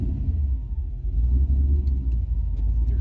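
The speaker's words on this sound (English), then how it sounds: "All right, guys, time to put the cars away." Project cars being driven in and parked for the day at a shop, giving a steady, close, low engine rumble with no talking.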